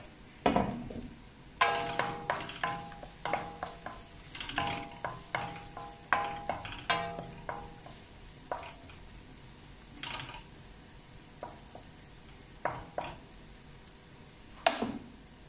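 Garlic and onion sauté in a pan, with repeated rhythmic spatula strikes and scrapes against the metal over a soft sizzle, close and fairly loud, with no talk.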